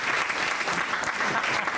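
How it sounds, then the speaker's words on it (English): Stand-up comedy audience applauding a comedian, dense sustained clapping from a crowd, loud and continuous throughout. "Give him another big round of applause"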